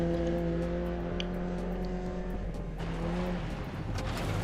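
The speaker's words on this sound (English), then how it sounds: "The engine is unique in that it makes a lot of noise, but not a lot of power happens on the way" A 1980s French rally car in DiRT Rally 2.0 holds a loud, steady engine drone with strong buzzing harmonics, shifting character midway as if load or gear changes; no voices.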